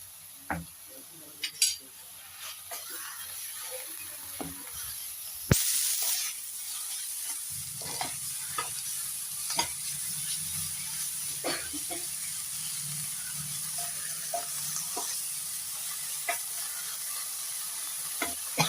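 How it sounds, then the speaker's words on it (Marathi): Vegetables sautéing and being stirred in a pan, with a low sizzle and scattered scrapes and clinks of a spoon against the pan, fairly quiet and steady throughout, no talking. "आता ही भाजी अशी छान परतून घ्यायची."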